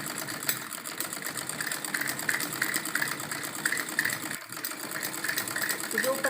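A sewing machine runs a fine seam along a salwar, joining the gota edges and kali panels, a steady continuous whirring hum throughout with a brief dip near the end.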